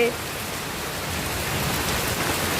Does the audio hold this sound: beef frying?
no